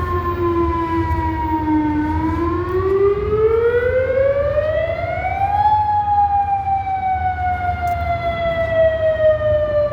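A loud, close civil defense modulator siren under test wails continuously, its tone falling, rising, then slowly sliding down again over a low rumbling background.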